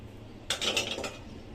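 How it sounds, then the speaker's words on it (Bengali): Jackfruit fritter batter with coriander leaves and green chilli is mixed in a bowl, a short burst of utensil scraping and clinking lasting about half a second, close and fairly soft. "আমি এটা একটু মিক্স করে লই"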